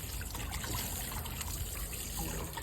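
Water running steadily while fruit is washed, a close, continuous trickling splash with no voices.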